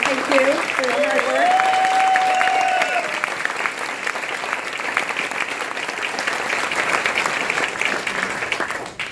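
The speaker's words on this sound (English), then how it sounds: "we want to give a special applause to all the kitchen and servers here tonight" An audience at an awards dinner gives a long round of applause for the kitchen staff and servers, full and steady clapping that continues well after a brief voice at the start fades.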